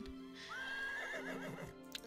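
A horse in the video game Star Stable gives a single clear, shrill whinny that rises and trails off over about a second, heard close and alone.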